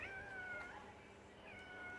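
A cat meows twice, soft and fairly faint, two drawn-out rising-and-falling cries about a second apart against quiet background.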